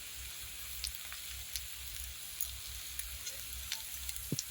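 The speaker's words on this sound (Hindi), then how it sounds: "वो शिमला मिर्च ऐड कर देंगे। और इसे भी 2 मिनट के लिए फ्राई कर लेंगे।" Chopped capsicum frying in a pan with carrots, a faint steady sizzle with sparse small crackles and pops, closing with one brief clink.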